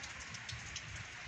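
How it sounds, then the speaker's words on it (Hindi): Heavy morning rain falls steadily on a home under construction, a dense continuous hiss of drops drumming on surfaces with no talk over it. "बहुत ही ज़्यादा बारिश हो रही है।"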